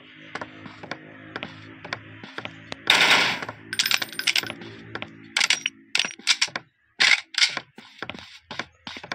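Rapid gunfire from the Deadly Dino dinosaur hunter game on Android, sharp cracks ringing out in irregular bursts and single shots, loud and close, with a heavier blast around the third second.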